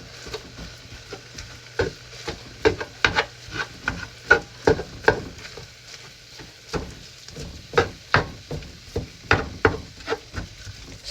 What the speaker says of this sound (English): So while your meat's cooking, you just need to break it up.